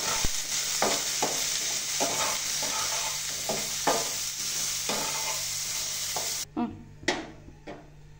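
Potato pieces fry with turmeric in a pan, a steady close sizzle broken by repeated stirring scrapes. The sizzle drops off near the end and leaves a few separate clatters.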